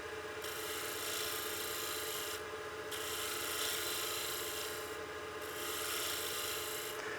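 On a lathe turning a utility box, a sharp woodturning tool shear-scrapes the spinning wood with a steady, continuous rasping hiss. The sound swells and eases in slow passes, without speech.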